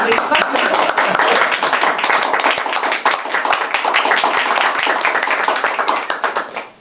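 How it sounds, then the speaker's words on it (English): Brisk, close clapping from a small audience at a Toastmasters club meeting, dense and continuous before tapering off at the end, with faint voices mixed in. "At least clap."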